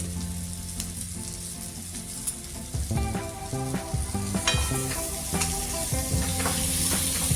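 Bhogichi bhaji, a mixed vegetable dish, sizzles steadily in a hot pan while a spoon stirs it, with repeated scraping and clinking strokes over a continuous frying hiss, close and fairly loud, no talking.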